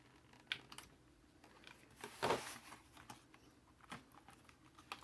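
Plastic blister packaging holding a three-pack of Gerber folding knives being cut away, heard as quiet, sparse crinkles and snips with one louder crackling burst in the middle.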